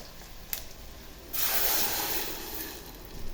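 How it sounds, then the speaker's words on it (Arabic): A sudden loud sizzle bursts out as blended tomato sauce hits a hot pan of fried onion, then a steady hiss settles in and slowly eases. "ننزل بقى عليها بالقوطه اللي احنا ضربناها في الخلاط"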